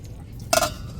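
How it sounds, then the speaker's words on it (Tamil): A cooking pot set down on a stove and covered with its lid while potatoes are boiled for cutlets: one brief metallic clink and clatter, close and moderately loud, in an otherwise quiet kitchen. "இப்போ அப்படியே அடுப்பில் தூக்கி வச்சு ஒரு மூடியை போட்டு மூடிடுவோம்"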